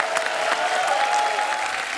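A studio audience at a TV comedy show applauds, a dense, steady patter of many hands that carries on throughout.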